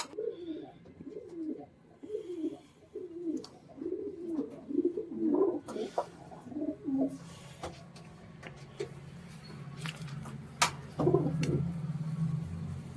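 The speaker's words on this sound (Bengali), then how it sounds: "অপূর্ব অসাধারণ একজোড়া পায়রা" Pigeons coo in a steady run of soft, rhythmic throaty calls up close, fading into scattered clicks and rustles, with another coo near the end.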